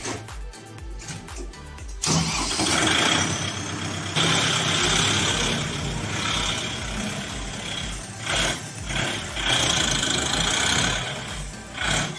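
A Kubota 5502 tractor's diesel engine runs steadily at close range, a loud continuous rumble with a rhythmic low throb that surges slightly now and then, with no talk over it.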